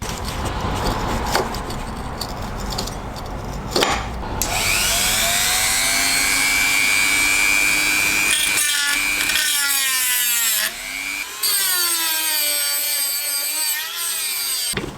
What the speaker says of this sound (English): grab a Dremel and try and slit a little line down the middle where I can then get a screwdriver in and hopefully unscrew it